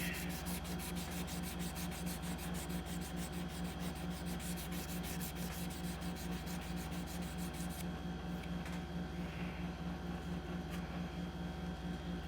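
A chef's knife is hand sanded, giving a steady, close, scratchy rubbing stroke that runs unbroken the whole time with no talking.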